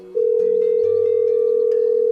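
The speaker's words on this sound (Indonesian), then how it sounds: "aku coba angkat dulu teleponnya" A telephone sounds a single steady electronic tone for about two seconds, loud and close, with no voices.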